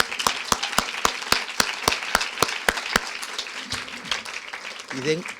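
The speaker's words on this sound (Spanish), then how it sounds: "Un primer aplauso, un segundo aplauso para ella" An audience at a literary talk with the Nicaraguan writer Gioconda Belli applauds, starting with sharp rhythmic claps in unison that loosen into scattered applause, with voices murmuring underneath near the end.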